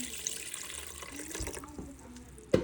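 Tap water runs and splashes into a pot of white rice as it is filled, a steady close trickle ending in a brief louder gush.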